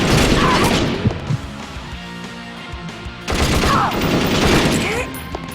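Intense automatic gunfire in Perfect Dark Zero during a mansion infiltration fight: two long, dense bursts with crashing impacts, close and loud, and a voice talking faintly under it.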